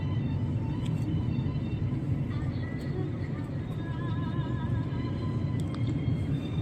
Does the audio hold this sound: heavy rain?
no